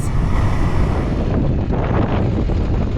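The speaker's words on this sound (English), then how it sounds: "I'm gonna get blown away. It's so windy." Strong wind buffets the microphone with loud, rumbling gusts that roar without pause.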